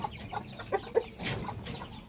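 Guinea fowl cluck in short, scattered calls near a cage, faint and somewhat distant, with no talking.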